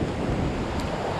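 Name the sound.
strong sea waves at a winter fishing spot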